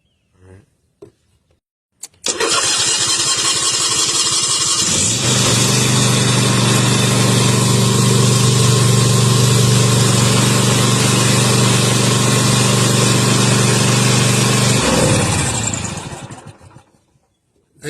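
An old Toro Time Cutter riding mower's engine, just unclogged after a no-start, catches and runs loud and steady close by, climbing to a fuller roar after a few seconds, then cuts off abruptly.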